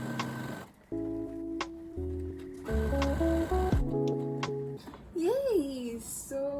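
A sewing machine stitches stretchy knit fabric along the bottom hem of a tie-dye crop top. Its motor whines steadily and changes pitch in steps as the speed shifts, with a brief lull near the start and light ticking from the needle.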